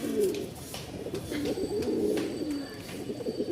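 Pigeons coo repeatedly in a low, rolling murmur, several birds close by at a loft sale, the soft throaty calls overlapping continuously with no talk.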